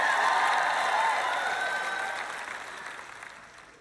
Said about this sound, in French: Maintenant, vous applaudissez quand je dis que Jésus revient.